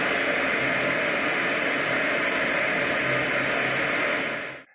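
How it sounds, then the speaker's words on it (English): A LectroFan Evo white noise machine gives off a loud, even hiss of broadband static that runs unchanged and then cuts off abruptly at the end. "It's a really good white noise machine, lots of options and really good white noise and fan sound."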